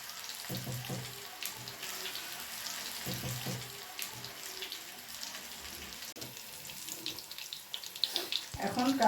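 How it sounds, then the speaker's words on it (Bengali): Fish roe fritters fry in hot oil in a karahi with a steady, moderately quiet hiss, broken by a few knocks of a utensil and a louder clatter near the end. "এখন কাতলা মাছের ডিমের বড়াটা উল্টে দিচ্ছি। এক পিঠ ভাজা হয়ে গেছে, অপর পিঠ উল্টে দিলাম।"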